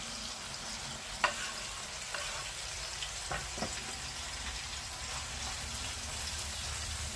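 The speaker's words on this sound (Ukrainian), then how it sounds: "Підсмажуємо цибулю." A soft, steady sizzle of onion frying in a pan over medium heat, with a few light clicks of a utensil stirring now and then.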